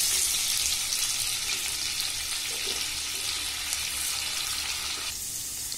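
Chopped onion frying in a spoonful of Amul butter for a creamy paneer gravy, a loud close crackling sizzle that eases slightly toward the end, without talk.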